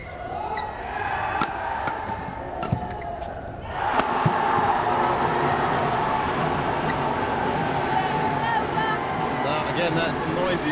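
A crowd in a badminton hall cheers and roars from another court during an India versus Germany Thomas Cup match, the noise swelling partway through and then holding as a broad, distant din, with commentary voices over it.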